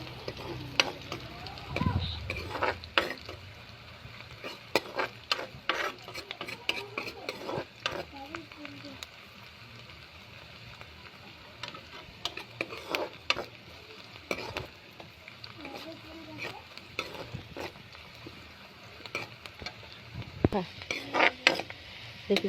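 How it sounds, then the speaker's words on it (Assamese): Onions fry in a pan for a fish curry and are stirred slowly, giving a steady sizzle broken by repeated scraping and clinking of the spoon against the metal. Faint talk may sit underneath. "মই এনেকৈ লৰাই আছোঁ লাহে লাহে।"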